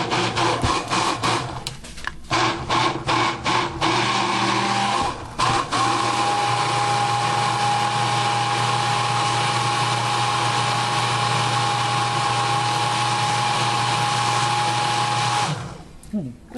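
A Wazinator handheld blender whirs through orange and pineapple, starting with short choppy pulses before settling into a long continuous high whine that cuts off near the end.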